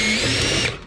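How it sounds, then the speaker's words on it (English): A power drill bores out spot welds on the bedside of a classic C10 pickup, a loud continuous high-pitched grinding whine close by that winds down at the end. "It just drills right around"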